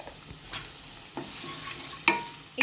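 Chopped tomatoes go into a pan of sautéed onions for a ragda pav recipe, with quiet sizzling, a few soft scraping stirs and a sharp clink of a utensil near the end.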